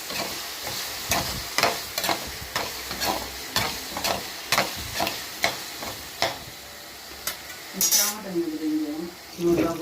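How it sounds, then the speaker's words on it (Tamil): Onion and garlic sauté for a Tamil tomato kuzhambu as a spoon scrapes the pan in a steady rhythm of a dozen or so strokes over a soft sizzle, ending with a brief clink of metal. "நம்ம தக்காளி குழம்புக்கு தேவையான வெங்காயம் பூண்டு எல்லாம் போட்டு வதக்கிட்டு இருக்கேன்"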